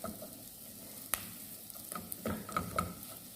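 Onion frying in a pan, a soft low sizzle with occasional scraping stirs and small clicks of a utensil against the pan, fairly quiet and close.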